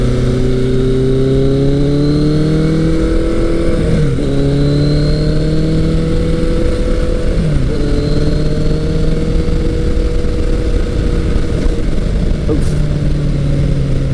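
A 1983 Kawasaki GPZ 1100 motorcycle engine pulls hard through the gears, its loud, close drone rising in pitch, dropping at each shift and climbing again, under steady wind noise.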